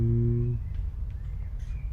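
Soft bird tweets in a park setting from the game Where Is My Egg? follow a short humming tone at the start, with a few scattered high chirps and whistles over a low background hum.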